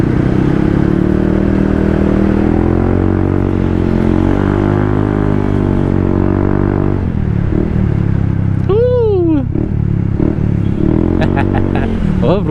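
A Honda ADV160 scooter fitted with a new aftermarket exhaust runs with a deep, steady engine drone close by, then rises in a couple of sharp rev sweeps near the end.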